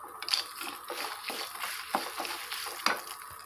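Coriander seeds and curry leaves fry in a pan for a spicy bitter gourd powder, giving a steady close crackle with a few sharper pops and scrapes of stirring.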